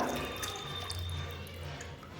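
Faint water trickles and drips steadily in a quiet room, a soft splashing as water runs off soaked potato wafers being squeezed by hand.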